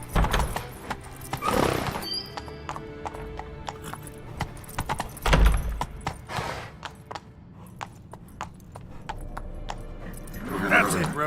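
Hooves clip-clop steadily as the horse Roach gallops in The Witcher 3, with a neigh or two standing out above the beat and game voices speaking over parts of it.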